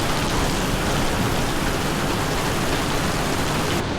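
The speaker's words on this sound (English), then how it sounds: "Hell of a storm going on here in Bali." A heavy rainstorm in Bali pours down as a dense, unbroken hiss of rain, loud and constant across the whole stretch, with no voices over it.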